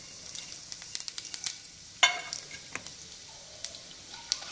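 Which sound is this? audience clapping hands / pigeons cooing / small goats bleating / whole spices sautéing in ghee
whole spices sautéing in ghee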